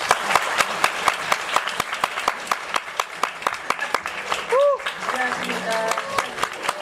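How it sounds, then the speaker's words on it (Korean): At a talk concert, an audience claps in a steady rhythmic beat to welcome Seoul mayor Park Won-soon and Kim Mi-hwa, with crisp close claps repeating about twice a second while voices rise over them toward the end. "큰 박수로 모시겠습니다"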